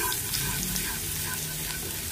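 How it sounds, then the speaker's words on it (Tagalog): Garlic sizzles in hot oil in a kawali, a steady, loud, dense frying hiss that stays even throughout with no talk over it. "igisa ko muna ang bawang"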